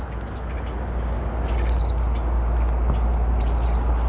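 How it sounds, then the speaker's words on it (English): High, repeated chirping calls ring out twice from a tree in a cemetery, sitting above a steady wash of insect buzz and broad outdoor noise. "I don't see that bird, but I sure hear that bird."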